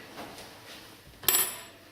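A saucepan holding caster sugar, set down on a hob to heat for panna cotta, gives a single short metallic clunk near the end of a quiet moment in the kitchen.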